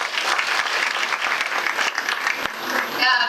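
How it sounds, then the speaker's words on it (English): Applause from an international conference audience fills the room as dense, steady clapping from many hands that tapers at the end, with a voice briefly heard under it. "So a big round of applause and welcome,"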